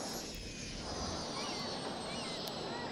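Aircraft in the city-building game Cities: Skylines taking off and landing, a continuous broad jet roar that swells slightly and holds steady at moderate distance, with no talk over it.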